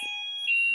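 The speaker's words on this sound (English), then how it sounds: "It's an alarm and it's not going to go off anytime soon." An electronic alarm beeps on as a steady high-pitched tone, sustained and moderately loud, swelling slightly near the end with no talk over it.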